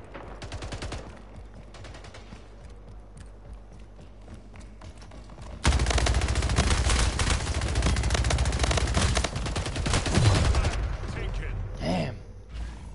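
SMG gunfire in a capture-the-flag video game: sparse shots at first, then a sudden loud, dense stream of rapid automatic fire that rattles on for several seconds before tapering off.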